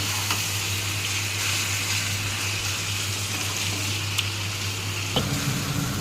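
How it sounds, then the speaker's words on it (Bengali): Water poured into frying soybean curry in a pan, a steady broad sizzling hiss throughout, with a brief shift near the end as the liquid hits. "এবার জল দিয়ে দিলাম"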